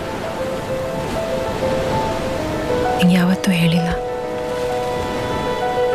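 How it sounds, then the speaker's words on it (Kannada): Sea waves wash in as a steady, continuous surf roar beneath a person talking, with soft tonal music faintly underneath. "ಅಲೆಗಳ ಸದ್ಮನು ಕೇಳ್ತಾ ಇದ್ರೆ ಜೋರಾಗಿ ಹಾಡಬೇಕು ಅನ್ಸುತ್ತೆ"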